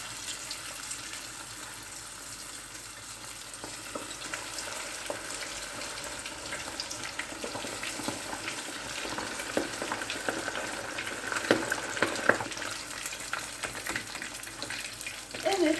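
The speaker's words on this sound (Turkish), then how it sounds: "Isıttığım yağıma bagetlerimi atıyorum." Loud, continuous sizzling and crackling of baguette pieces frying in hot oil in a pot, steady throughout with occasional sharper pops.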